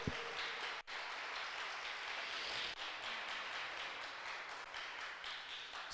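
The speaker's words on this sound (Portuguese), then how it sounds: "dê um aplauso a Ele, dê um aplauso a Ele" A church congregation applauds during a Portuguese-language service, a soft continuous wash of clapping at a distance, quiet with a couple of brief dropouts.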